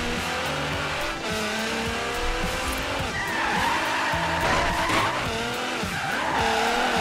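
Tires squealing and skidding under the e-brake in the racing game Forza Horizon 3, sliding screeches layered over a steady engine note for several seconds without a break.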